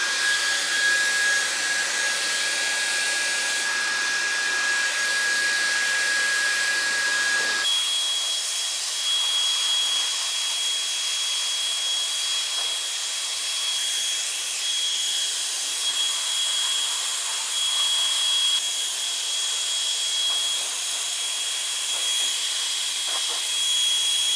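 Hair dryer running on its cold setting at medium airflow, a loud continuous close-up whooshing hiss that shifts tone partway through and then holds steady throughout.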